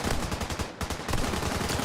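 Rapid gunfire from a shooting video game crackles in a quick, loud, steady series of shots over about two seconds, with no voices.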